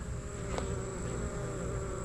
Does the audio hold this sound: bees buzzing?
yes